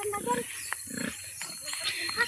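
A pig grunts and snorts in a few short, rough bursts at close range, while people talk in the background and a steady high whine hangs over everything.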